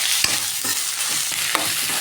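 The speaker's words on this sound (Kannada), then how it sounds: "ಒಂದು ಟೊಮೊಟೊ ಹಾಕ್ಕೊಳ್ಳೋಣ. ಹಾಕಿ ಸ್ವಲ್ಪ ಫ್ರೈ ಆಗಬೇಕು." Onion and tomato frying in a pan give a dense, steady sizzle, close and even, with a few faint scrapes of stirring and no voices.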